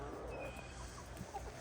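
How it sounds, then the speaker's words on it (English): Hens cluck softly and sporadically around a backyard coop, faint and close amid low background noise, with no talk during the clucking. "Good morning, chickens."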